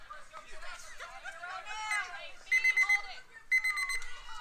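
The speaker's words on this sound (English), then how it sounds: "And there's the timer." At a girls' softball game, the pitch timer sounds as two bursts of sharp electronic beeping, each lasting about half a second, over a crowd's chatter and a whistling, warbling background.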